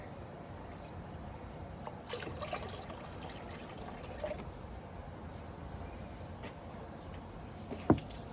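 Water trickling and pouring out at a creek-side digging spot, a soft steady wash with faint splashy bursts and a sharp knock near the end.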